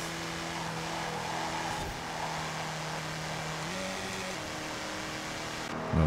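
A rear-engine race car in Forza Horizon 4 holds a steady, droning engine tone as it races, with small shifts in pitch as it changes gear and a burst at the end, no talk.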